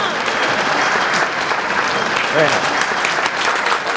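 Crowd of workers applauding after a rousing speech, dense steady clapping held loudly for several seconds with a brief voice cutting through partway.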